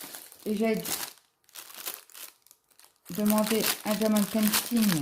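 Paper crinkles and rustles in short bursts while someone talks over it, with pauses between the handling sounds.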